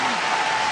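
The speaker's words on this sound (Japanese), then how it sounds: "大歓声に包まれています。" Arena crowd at the 2007 World Figure Skating Championships roaring and applauding after an ice dance free dance, a dense, steady wall of cheering throughout the brief moment.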